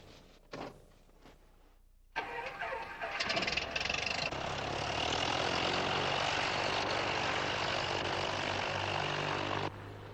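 A propeller aircraft taxiing on a runway: a few brief clunks and a short pause, then a loud, steady propeller engine roar that holds steady before cutting off abruptly near the end.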